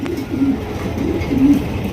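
Low, soft cooing from Silver Racer racing pigeons nearby, two gentle rolling calls over a steady background hum.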